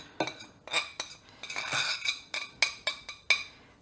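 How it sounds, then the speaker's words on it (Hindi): A spoon tips gram flour into a bowl of ground lentil batter for dahi bhalla, giving a quick run of close metallic clinks and taps with soft scraping between them. "ये दाल में 2 टेबल स्पून मैं डाल रही हूँ बेसन"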